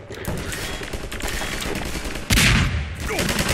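Gunfire rattles in Half-Life 2, a dense continuous burst of shots with a louder blast near the end and no speech.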